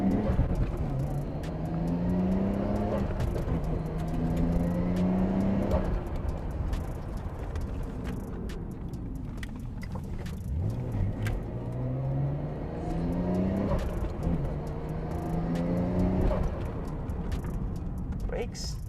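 A Nissan Skyline GT-R R34 V-Spec is driven around a shop area on a test run, its engine rising and falling through several revving pulls at moderate distance, with steady road noise and some talk underneath.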